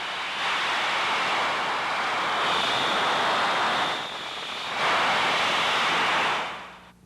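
Broadband hiss of a heat exchanger leak picked up through an Ultraprobe ultrasound detector during condenser tube inspection, a steady rushing noise that swells, dips briefly and rises again before fading.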